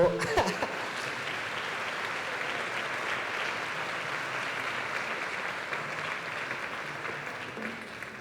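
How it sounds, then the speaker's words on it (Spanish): A church congregation breaks into loud applause after a prayer, a dense sustained clapping that slowly fades toward the end, with a voice faintly audible beneath it. "Un fuerte aplauso."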